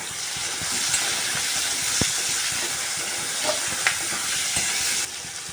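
Shrimp frying in a pan with chili powder and turmeric, a steady close sizzle with occasional clinks of a spoon stirring, continuous until the hiss drops slightly near the end.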